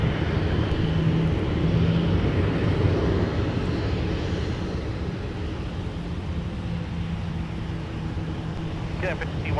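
A Delta heavy jet takes off from runway 12 right at Minneapolis airport as a broad, steady low jet roar with a faint tonal hum, distant and continuous, under radio-like talk.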